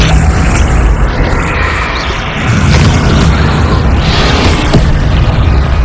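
Bombarda spell explosions from Hogwarts Legacy form a dense, loud, continuous roar of blasts and rumble, with sharper bursts near the end and no pause.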